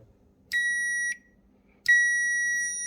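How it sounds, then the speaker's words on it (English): Two sharp beeps from an electronic buzzer on a 12-volt switch simulator sound close and clear, a short one followed after a pause by a longer sustained tone. "got my buzzer on right now"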